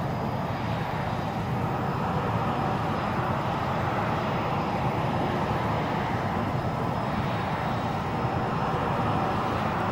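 Jet engine of an AV-8B Harrier in X-Plane 11 at Naval Air Station Patuxent River, a steady loud broadband roar that holds level throughout while the aircraft accelerates, with no talk.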